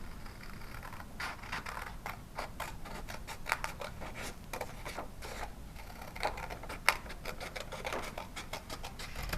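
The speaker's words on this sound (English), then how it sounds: "Now grab your scissors. I'm going to have you cut on that black line or that pencil line." Scissors snip through paper in a quiet room, giving a run of small, irregular crisp cuts at close range with no voices.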